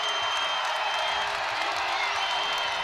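Basketball arena crowd at an Iowa at Illinois Big Ten women's game in Champaign-Urbana, a steady roar of cheering and whooping that stays loud and even throughout, with a commentator's voice faintly beneath.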